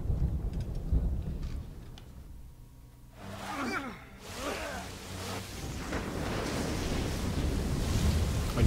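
Stormy sea in Assassin's Creed 3, with a sailing ship heading into a storm: roaring wind and crashing surf fill the clip, dipping briefly before building again into a loud, continuous rush, with a few creaking tones in the middle.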